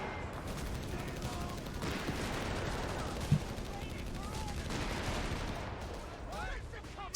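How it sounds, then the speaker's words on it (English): Battle noise from the video game Company of Heroes 3 as a 2-inch mortar barrage lands, a dense continuous rumble of distant blasts and gunfire with a sharper impact near the middle and another at the end. "I'll do the barrage there. I've got the mortar, 2-inch mortar hitting his MG."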